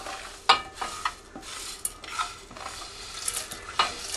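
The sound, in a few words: rice added and stirred into a pan with tomato sauce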